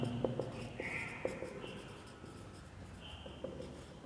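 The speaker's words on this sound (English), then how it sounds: "Okay, I am writing down" A pen scratches across paper while equations are worked out, short strokes and scribbles in quick bursts, close and fairly quiet, with brief pauses between them.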